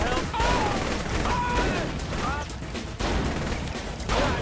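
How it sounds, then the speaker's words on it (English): Shotgun blasts ring out in the video game Saints Row: The Third Remastered, several loud booming reports spaced a second or so apart. Speaking voices and game noise run underneath. "Take him, bitch, I got a shotgun."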